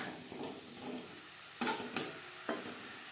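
Boiled potatoes being stir-fried with cauliflower in a pan over high to medium flame, with a soft sizzle, then a few sharp clinks and scrapes of a utensil on the pan.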